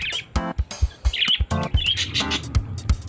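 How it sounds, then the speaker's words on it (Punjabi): Australian parrots kept in a cage chirp and tweet in quick bursts, close and fairly loud, with bright repeated calls and harmonic squawks overlapping throughout. "ਮੇਰੇ ਕਜ਼ਨ ਨੇ ਤੋਤੇ ਰੱਖੇ ਨੇ, ਆਸਟ੍ਰੇਲੀਅਨ ਤੋਤੇ"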